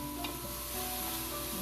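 Food sautés in a pan over medium-high heat, a continuous close sizzle with a faint scrape of stirring.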